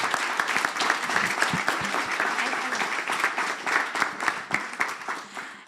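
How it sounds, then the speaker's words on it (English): Steady audience applause fills the room for several seconds, dense overlapping claps at even loudness with no voices over it. "it would be great to applaud them because they have been working really hard."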